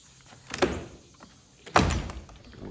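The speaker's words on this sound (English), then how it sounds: "Doors open." A door swung open onto a lakeside deck on a calm 70-degree morning, heard as two separate knocks and rattles about a second apart, each followed by a short decaying rustle, fairly close, with no talking.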